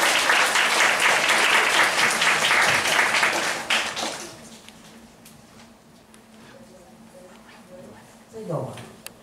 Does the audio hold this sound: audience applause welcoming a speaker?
yes